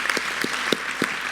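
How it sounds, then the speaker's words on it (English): An audience at a city news conference applauds in a short, steady burst of clapping, with no voices over it. "Please join me in giving these folks a round of applause."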